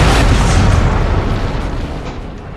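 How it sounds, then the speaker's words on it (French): Artillery fire in the Empire: Total War battle game, a loud, heavy, rumbling boom that fills the sound and slowly fades over a couple of seconds, with no talk. "c'est son artillerie"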